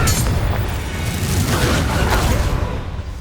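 The Confringo explosive curse from the Hogwarts Legacy video game erupts in a loud, sustained booming blast with a rushing roar that fills the whole moment and slowly eases at the end.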